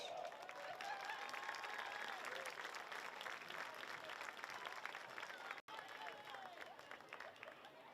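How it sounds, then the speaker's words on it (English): A banquet audience at a high school Hall of Fame induction gives steady applause for an absent inductee, a continuous faint spread of many hands clapping, with scattered voices underneath. "please give him a round of applause"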